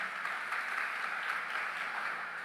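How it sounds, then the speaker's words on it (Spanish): Steady applause from a church congregation during a sermon, an even, fairly distant wash of clapping with no speech over it. "Dale un fuerte aplauso a él."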